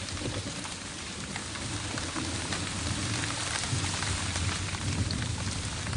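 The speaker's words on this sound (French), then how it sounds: "la pluie n'a pas cessé de tomber, la tempête de souffler" Steady rain pouring down with storm wind, a dense continuous wash of falling drops and low rumbling gusts throughout, fairly loud and unbroken, with no voices.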